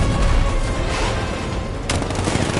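A 60mm cannon on an unmanned tank fires in Batman: Arkham Knight, heard as a dense, continuous roar of booming gunfire. A sharper blast lands near the end, and no one speaks.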